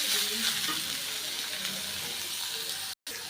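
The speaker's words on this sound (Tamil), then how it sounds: "இதை வந்து நல்லா வதக்கிக்கலாம். இந்த ஆயில் நிறையா விட்டுருக்கேன் இல்லையா, நல்லாவே வதக்கிக்கலாம்." Amla (Indian gooseberry) pieces sauté in plenty of oil in a pan, giving a steady close sizzle and hiss that continues throughout with a brief cut near the end.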